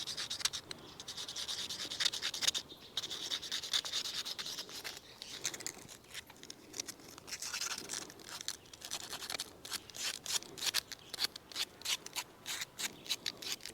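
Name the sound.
sanding down a Kalij pheasant hen's beak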